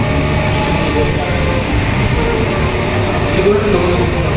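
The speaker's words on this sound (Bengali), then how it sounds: "তো আমাদের ট্রেন যাচ্ছে" A moving train rumbles and rattles steadily, a loud continuous roar with faint clicks, and a voice can be heard talking over it.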